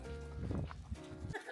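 Sheep being fed on a farm at a winter alpine village near Seoul, giving a few wavering bleats close by amid rustling and handling noise.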